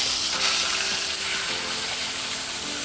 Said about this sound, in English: always want to hear that consistent sizzle on it